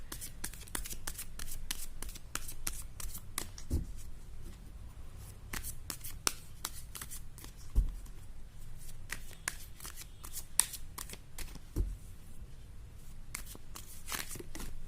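Tarot cards are shuffled over and over by hand, a dense run of crisp riffling flicks and taps, close and steady throughout.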